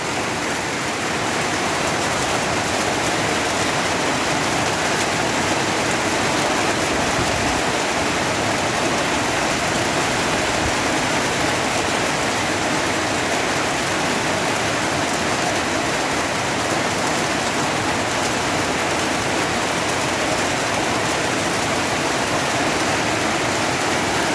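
Heavy rain roars without letup for a long stretch, a thick constant wash of noise close by.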